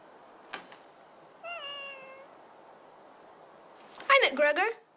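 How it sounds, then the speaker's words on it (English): A cat meows twice, a drawn-out, clear meow first and then a louder, quicker run of meows, with quiet room sound between them. "Why is it that cat only shows up when there's food around?"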